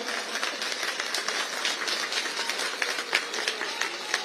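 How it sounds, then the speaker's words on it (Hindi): A large crowd at an open-air political rally for Amit Shah in Kalkaji, Delhi, claps steadily and loudly, a dense, continuous patter of applause with no speech over it. "आपके लोकप्रिय प्रत्याशी श्री रमेश विधुड़ी जी के लिए जोर से ताली बजाइए जरा"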